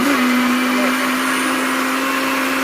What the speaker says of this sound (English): I'm going to blend the first one and then I'll blend the others off camera.